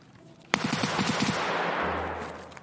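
A short burst of full-auto pistol fire in the video game Escape from Tarkov: a sharp crack followed by a quick, loud run of rapid shots, then a lingering echo and a low hum.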